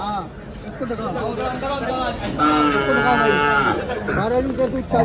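Gir cows at a cattle market in Dhule low and moo repeatedly amid livestock noise, with a dense chatter of people talking nearby throughout.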